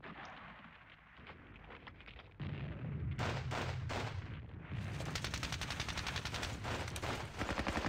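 Artillery strikes and gunfire in the war game Squad Battles, set at Ponyri, make a dense, loud, continuous barrage of heavy booms and rapid shots that grows louder partway through.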